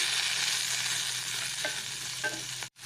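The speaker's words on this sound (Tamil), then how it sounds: "இப்போ வெங்காயம் தக்காளிலாம் ஓரளவு வதங்கிட்டுருக்கு" Onions and tomatoes sauté on low heat in a pan for a banana stem chutney, a steady close sizzle broken by a few scraping stirs near the end, then a brief dropout, with no voices.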